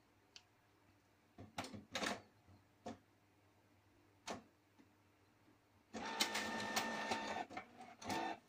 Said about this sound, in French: Croisons les doigts pour que l'imprimante fonctionne à tous les coups.